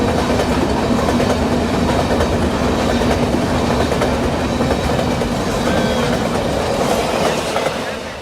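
A train rumbles past steadily for several seconds in San Francisco, with continuous wheel clatter, rail noise and a faint squeal, loud and close throughout before easing slightly at the end.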